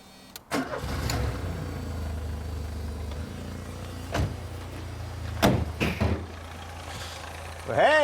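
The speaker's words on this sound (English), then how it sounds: "Shall we have a little listen to the engine?" A Ford CVH engine cranks and starts in a classic car, then settles into a steady idle hum with occasional louder blips and clunks, close up, alone without talk.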